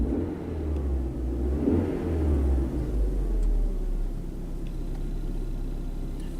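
A car engine revs up under a scan tool's bidirectional test, with a deep continuous rumble that rises and falls, then roughens and stumbles as it runs, close and loud throughout.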